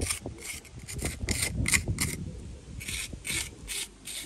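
A tool scrapes excess fresh mortar from the brick joints of a gable wall during repointing. Rough, rasping strokes come in quick repeated bursts, close and clear, with a short pause before a final series of scrapes.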